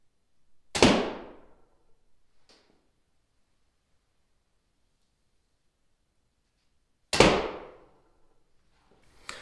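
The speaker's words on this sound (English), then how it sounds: "we'll take a few shots with this bow and show you what it looks like and sounds like shooting the" A 62-inch Solomon traditional bow from Coyote Creek Archery is shot twice, each shot a sharp, loud twang-and-thump that decays quickly, separated by quiet, with a faint knock after the first and another shot starting at the end.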